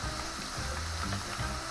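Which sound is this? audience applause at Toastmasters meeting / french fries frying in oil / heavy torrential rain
french fries frying in oil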